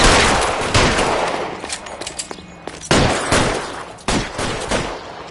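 Rapid bursts of gunfire in a PS4 shooter, loud and close, with several sharp volleys that decay between strikes and a renewed burst around three and four seconds in.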